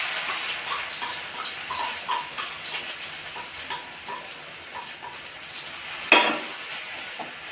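Crushed spices hit hot oil in a heated pan, giving a steady close sizzle and light bubbling, with one brief sharp scrape or clatter partway through.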